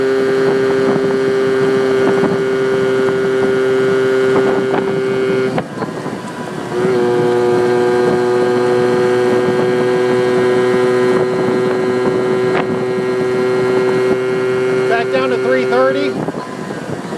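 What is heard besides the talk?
Yamaha Towny moped engine revving while riding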